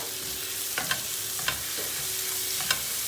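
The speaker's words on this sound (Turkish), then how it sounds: "İçine hemen bir yemek kaşığı domates salçası atıyorum. Domates salçasını da bir kavuracağız." Tomato paste fries with onions and peppers in a pan, a low steady sizzle with a few soft spoon scrapes and taps as it is stirred.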